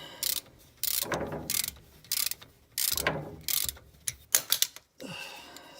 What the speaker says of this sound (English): It's about time for a new ratchet